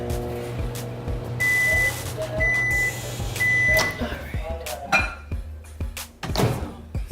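A microwave melting butter hums steadily through several short stretches, with beeps, door clunks and handling thumps between them, then clattering kitchen movement afterward.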